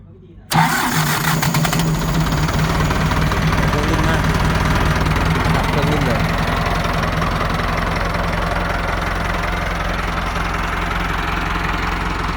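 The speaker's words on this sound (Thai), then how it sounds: "เอาลองฟังเสียงเครื่องกันดูครับ" A used Ford 6600 tractor's engine cranks and fires, then holds a loud, steady, close diesel idle with a slight knock for about twelve seconds, with no talk over it.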